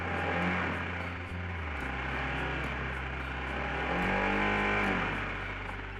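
A Honda CB150R Special Edition motorcycle engine idles and revs nearby, a steady low hum rising slightly in pitch a couple of times.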